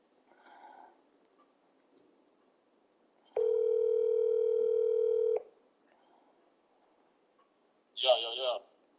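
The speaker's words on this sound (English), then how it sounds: "Nelson, you on the phone with Chuck and the coach." A steady telephone dial tone holds for about two seconds mid-clip on a call, loud and unbroken, with faint background murmur before it and a brief voice-like burst near the end.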